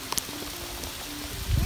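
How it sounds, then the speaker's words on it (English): Hail falls with rain in the desert of Southern California, a soft steady patter and hiss with a few sharper ticks of ice, and a voice and rustling near the end. "It's hailing right here."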